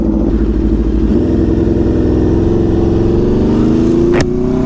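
Loud, close motorcycle exhaust from an Aprilia RSV4 with a LeoVince LV Corsa exhaust rumbles steadily with a throaty harmonic drone, climbing slightly in pitch as the engine accelerates, ending with a short crackle.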